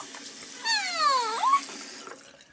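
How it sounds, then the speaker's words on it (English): Tap water runs steadily from a faucet while hands are washed at a sink. It sounds close and fairly quiet, with a brief squealing tone partway through and no talking. "Now you wash your hands with regular water."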